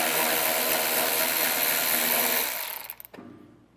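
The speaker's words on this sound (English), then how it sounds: "we'll have a 10mm bolt that we'll have to take out on each side" A ratchet loosens a 10 mm bolt beneath the taillight of a 2022 vehicle. It makes a loud, steady, close-up mechanical whir for about three seconds, then stops abruptly with a few rattling clicks before falling quiet.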